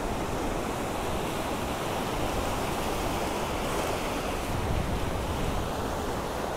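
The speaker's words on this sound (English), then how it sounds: "I need to wait for a little bit of a break in the waves" Ocean waves crash at Willunga Pier in Australia, a continuous roaring surf with wind noise, steady and close, with no voices.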